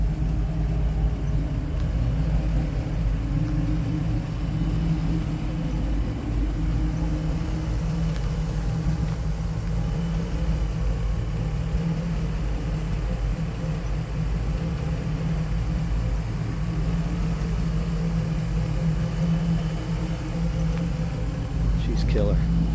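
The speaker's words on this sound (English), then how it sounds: "It's not really a super choppy idle, but definitely a deeper groan," A 1982 Jeep CJ7 V8 engine idles through a new exhaust, a deep, steady rumble, low and throaty with a slightly uneven pulse.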